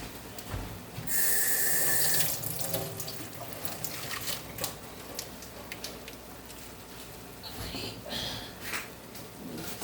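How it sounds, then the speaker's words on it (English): A kitchen tap runs while food is rinsed under it, a loud gush of water near the start followed by quieter splashes, clinks and intermittent trickling, with a faint voice now and then. "Give this a quick rinse."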